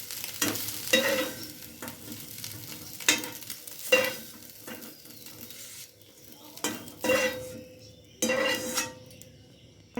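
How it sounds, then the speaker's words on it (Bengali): Soybean chunks frying in oil in a pan give a soft sizzle broken by repeated scraping and clinking strokes of a metal spatula stirring against the pan. "সয়াবিনটাও ভাজা হয়ে গেল, সয়াবিনটা ভেজে তুলে নিলাম"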